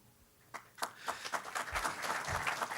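An audience at a New York City announcement by Governor Cuomo, held for firefighters and their families, starts clapping with a few scattered claps that quickly build into a fuller, denser round.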